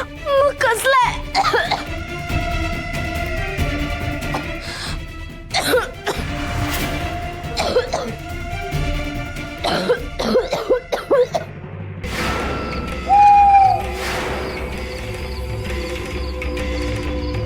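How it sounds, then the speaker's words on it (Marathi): Someone in a Marathi devotional drama scene coughs repeatedly while choking on smoke. The harsh, close coughing bursts come in clusters and mix with talking and background music. "अरे या धुराने मला खोकला येतोय रे"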